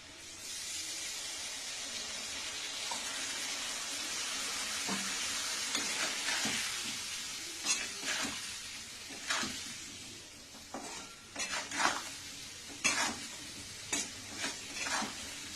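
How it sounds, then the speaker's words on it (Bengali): Spice paste for a potato and tomato curry, seasoned with turmeric and salt, fried with added water in a pan: a broad hissing sizzle that settles, then repeated scraping stirs against the pan, close and quiet. "এবার একটু জল দিয়ে এই মশলাটা আমি কষিয়ে নেব"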